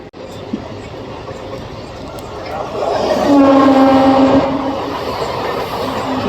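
A passenger MEMU train pulls out of Gunta Kodur railway station, its rumble building and a sustained horn sounding for about a second before the rolling noise settles into a steady, nearby drone.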